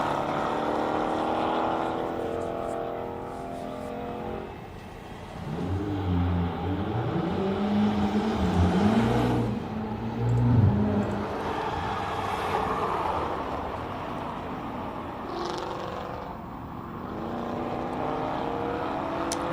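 Ford Mustang cars racing up the Simola hillclimb course, engines heard from a distance as a moderate, rising and falling rumble with a few revving passes in the middle.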